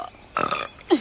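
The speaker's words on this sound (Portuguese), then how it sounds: "Jack arrota." A single short burp rises out of near silence, with a second guttural gulp-like sound closing it off.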